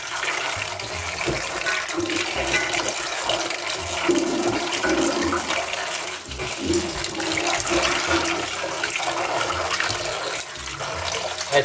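Tree bark is rinsed under a strong stream of running water, a continuous close splashing and gushing with small bursts as the pieces are scrubbed and turned by hand.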